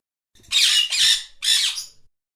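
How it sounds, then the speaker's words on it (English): A green parrot with a red beak gives three harsh, loud squawks in quick succession, each burst lasting about half a second, with short silences between them. "Parrot."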